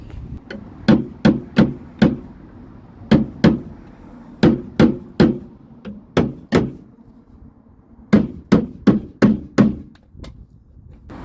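Loud hammer blows on the steel body panel of a 1975 Vauxhall Viva barn find, struck in quick bursts of three to five sharp metallic hits separated by short pauses, close up with no talking.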